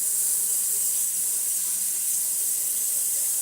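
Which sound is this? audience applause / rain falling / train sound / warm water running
warm water running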